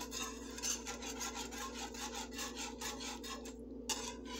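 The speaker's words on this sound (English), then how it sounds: "now I'm going to whisk this in here" A whisk scrapes steadily through gravy seasoned with paprika in a pan for smothered turkey chops, producing close, continuous rhythmic rasping strokes with no talking.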